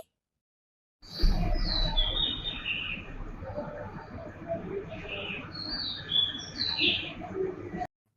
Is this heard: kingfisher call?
yes